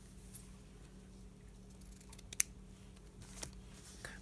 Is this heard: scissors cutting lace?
yes